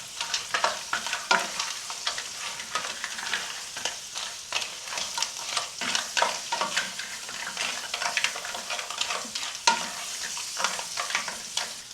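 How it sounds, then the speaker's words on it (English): Food sautés in a pan for a lobster carbonara, with a continuous sizzle and frying crackle broken by repeated scraping strokes of a utensil stirring, close and steady throughout with no talking. "So I'm just going to stir that around for about 5 minutes."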